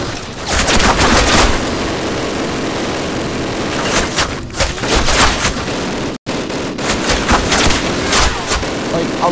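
Rapid bursts of machine gun fire rattle loudly in a Call of Duty battle defending a bridge, dense volleys overlapping with other gunshots, broken by one brief dropout.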